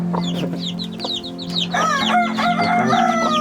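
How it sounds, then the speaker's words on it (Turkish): Close broody hen clucks continuously in short repeated notes, with a low steady hum beneath and a livelier flurry of clucking toward the end. "Bu yılın ikinci gur tavuğu Ponçik."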